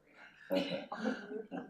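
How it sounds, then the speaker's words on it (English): Quiet throat clearing, a few short rough guttural bursts close by, with no other sound around them. "Just clearing my throat"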